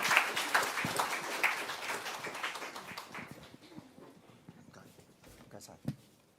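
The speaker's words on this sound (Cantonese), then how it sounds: "我哋都想用呢個時間咧，去俾大家俾啲掌聲" An audience at a church prayer meeting in Hong Kong claps in a dense burst of applause that gradually thins out and fades. Voices can be heard alongside it.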